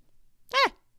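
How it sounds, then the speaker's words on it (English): A man gives a single short, sharp sneeze, close and fairly loud, with near silence before and after. "I'm going to sneeze."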